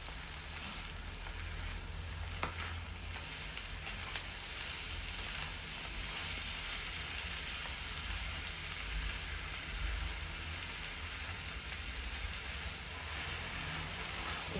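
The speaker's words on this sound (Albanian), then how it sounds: "Masën e përzijmë dhe e përgojmë për 3 deri në 4 minuta." Chopped parsley and tomatoes for sarma filling fry in a pan, giving off a steady unbroken sizzle with occasional stirring scrapes, close and even throughout.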